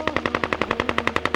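A rapid, loud burst of machine-gun fire is used as a sound effect for the 1919 Jallianwala Bagh massacre. The shots come in an even, unbroken stream of about ten per second, close and sharp, with no speech.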